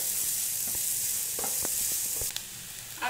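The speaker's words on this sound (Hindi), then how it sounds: "तो हम मीडियम फ्लेम पे चलाते हुए ऐसे सब्जियों को भूनेंगे।" Vegetables including onion stir-fried in a pan over a medium flame for a veg momo filling, giving a steady close sizzle with scattered scrapes and clinks of the spatula.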